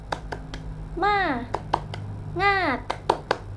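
Children in a classroom perform a clap chant: sharp, rhythmic hand claps in quick groups alternate with two loud, sung-out chanted calls from the kids.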